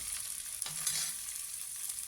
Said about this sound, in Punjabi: ਪਿਆਜ਼ ਪਾ ਕੇ ਆਪਾਂ ਤੜਕੇ ਨੂੰ ਚੰਗੀ ਤਰ੍ਹਾਂ ਭੁੰਨ ਲੈਣਾ